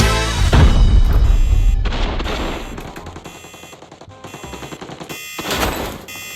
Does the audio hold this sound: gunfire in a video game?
yes